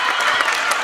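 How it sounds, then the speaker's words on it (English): A crowd at a girls' varsity high school basketball game cheers and claps in a dense, loud burst of applause that fills the short moment, with voices mixed into the roar. "the crowd went wild"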